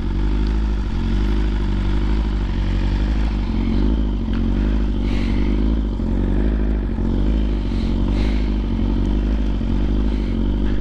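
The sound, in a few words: 1000cc motorcycle engine revving in neutral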